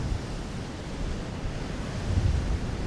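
Sea waves at high tide on the North Norfolk coast at Overstrand wash up on the shore in a steady, soft rush of surf, with low wind rumble against the microphone and a slightly fuller surge near the end.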